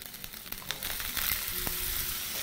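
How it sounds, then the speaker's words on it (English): Meat frying in a pan for a samosa filling, its fat cooking down, with a steady close sizzle and brief crackles and pops throughout, no voices. "we're going to continue frying our meat on the pan, making sure to completely cook down the fat, give it a bit of color."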